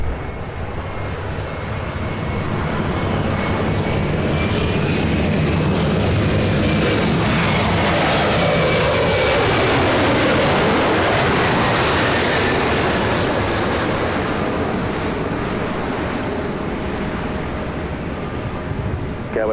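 A Lufthansa Super jet airliner landing on runway 24 left at LAX, a loud sustained roar that swells and fades over about twenty seconds with a rising whine in the middle.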